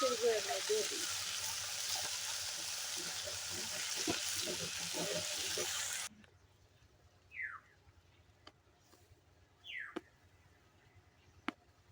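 Close, steady sizzle of vegetables frying in a pan with faint stirring scrapes, ending abruptly in near quiet broken by a few brief chirps and clicks.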